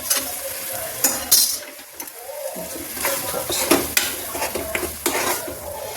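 Rice and spinach stir-fried in an iron kadhai, with a steady close sizzle broken by scraping and clanking stirring strokes throughout, loud and with no talking.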